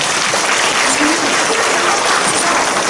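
Loud, dense applause from a church congregation during a revival worship service, a steady unbroken wash of many hands clapping together with no gaps.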